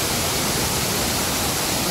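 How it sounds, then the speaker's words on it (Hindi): A large waterfall plunges into a deep gorge with caves below, heard as a loud, dense and unbroken roar of rushing water from nearby. "और दोस्तों ये भी झरना गिर रहा है"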